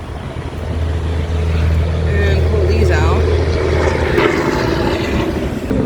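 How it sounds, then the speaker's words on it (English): Heavy trucks pass on a highway right beside a campground, a loud, continuous low engine and road rumble that swells and lingers for several seconds under a man's brief speech. "Sorry about the noise of the trucks."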